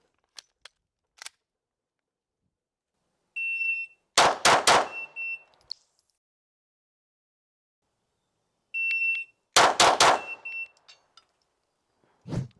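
Glock pistol shots fired during a timed shooting test: two sharp bursts several seconds apart, each of a few quick, loud cracks, with electronic timer beeps just before each burst.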